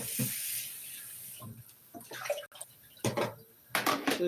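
Tap water runs and splashes in bursts as produce is washed under it in a kitchen, with quiet gaps between the louder gushes and scattered drips, close and moderately loud, no one speaking.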